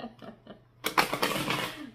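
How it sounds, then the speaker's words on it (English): A deck of Osho Zen tarot cards is shuffled close by in a dense, noisy riffle lasting about a second, after a brief bit of talking. "first I want to shuffle these."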